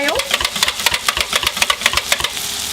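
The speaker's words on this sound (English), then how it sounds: "So we're just going to whisk it really well" A whisk beats cornstarch into stock in quick, regular strokes, giving a close, loud, rhythmic clatter of rapid clicks that continues evenly throughout.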